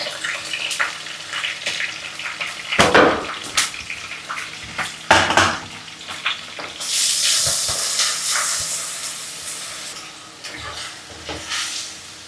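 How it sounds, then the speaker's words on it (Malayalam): Ginger, garlic and green chilli sizzle in hot oil while being stirred, with scraping and clattering strokes early on and then a steady loud frying hiss, all without talk. "ഈ ഇഞ്ചിയുടെയും പച്ചമുളകിൻ്റെയും വെളുത്തുള്ളിയുടെ ഒക്കെ ഒരു പച്ച ചൊവയുണ്ട്, അത് മാറുന്ന വരെ നമ്മൾ ഇളക്കി കൊടുക്കണം"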